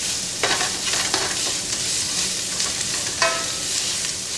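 Minced garlic and chopped jalapeños, some with seeds and membrane, fry in a pan for a beef chili. They make a loud, steady, close sizzle with a few brief stirring scrapes.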